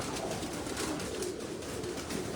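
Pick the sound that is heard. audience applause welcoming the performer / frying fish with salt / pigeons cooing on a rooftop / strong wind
pigeons cooing on a rooftop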